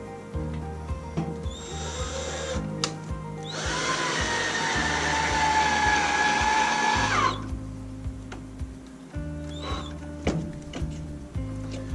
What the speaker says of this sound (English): I should have pre-drilled a small little hole, so I will for the second one.